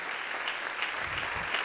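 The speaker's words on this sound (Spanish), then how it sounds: "Hoy vas a ser aplaudido por tu gente, por los sanroqueños." Steady audience applause fills a theater during an anniversary tribute, a dense even patter of many hands with no voices on top.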